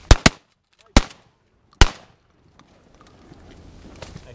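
Four sharp shotgun blasts ring out during a Colorado duck hunt, two quick shots, then two more spaced nearly a second apart, each loud and close with a short echoing tail, followed by quiet outdoor ambience.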